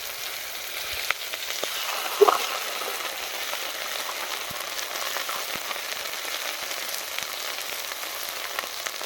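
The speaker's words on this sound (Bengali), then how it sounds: "মশলাগুলোকে হালকা করে ভেজে নিয়েছি" Spice pastes of cashew, poppy seed and ginger fry in hot oil over a tempering of cumin, bay leaf and dried chilli, giving a steady close sizzle with one light clink near the start.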